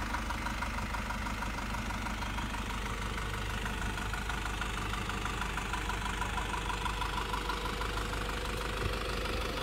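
A Nissan Patrol Y61 with the ZD30 diesel engine idles steadily and fairly loud, its clattering, knocking diesel rhythm continuing unbroken with no voices.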